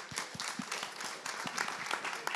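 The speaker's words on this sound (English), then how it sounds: "please give big applause to our speakers" A conference audience applauds speakers at the end of a session, many hands clapping in a dense, steady patter at moderate volume for a couple of seconds.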